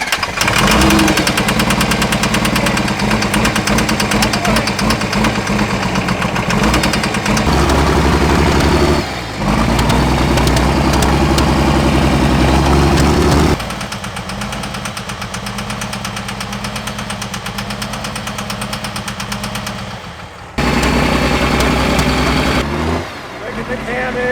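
A 2500 HP triple-turbo Cummins diesel engine runs loud and close with a deep, rough, knocking idle whose pitch and level shift several times.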